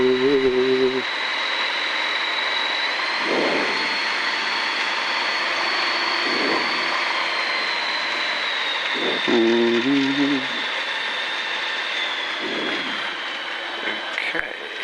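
A light aircraft at EGHN lines up and runs its engine up, a loud steady drone with a rising whine that fills the cabin, while voices talk intermittently over it.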